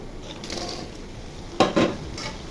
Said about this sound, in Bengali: পেঁয়াজ ভাজা হয়ে গেছে, এখন পটল ঢেলে দিব।